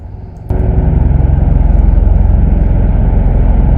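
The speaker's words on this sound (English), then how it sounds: "Sounds like a helicopter." A loud, steady rotor-like engine drone that suddenly swells and stays close, with a rhythmic low-frequency throb like a helicopter passing overhead.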